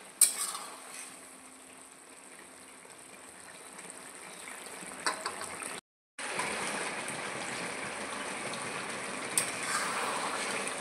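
Hilsa fish and Malabar spinach curry cooking in a pan: a steady, close sizzle with scraping stir strokes and occasional clicks, broken by a brief silent cut midway, then the simmering hiss carries on.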